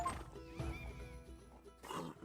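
A mare in the video game Kingdom Come: Deliverance 2 lets out a near, clear whinny that rises and trails off, followed by a softer snort.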